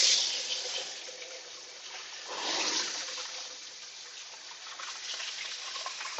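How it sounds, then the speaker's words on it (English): Tap water running steadily into a sink as hands are washed in a home kitchen, a close, continuous splash with a louder surge partway through. "let me just wash my hands really quickly"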